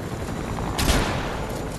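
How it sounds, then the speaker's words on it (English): Burst of Fortnite gunfire cracks out briefly in the middle, loud against a steady noisy game background, with no talk over it. "Hey, who's shooting? Whoa! Where's shooting coming from?"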